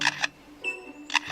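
A lyrebird imitates a camera shutter: two crisp double clicks, close and clear, separated by a short whirring tone.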